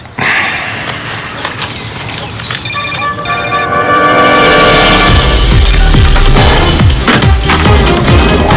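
A telephone rings in a TV drama scene: bursts of electronic bell trills that start short and then grow into sustained ringing, loud amid a busy, mechanical-sounding background.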